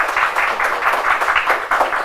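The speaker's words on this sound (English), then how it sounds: "I invite the audience to give a huge applause for this interesting presentation." An audience applauds after an academic presentation on post-communist regimes, with steady, moderately loud rhythmic clapping running throughout.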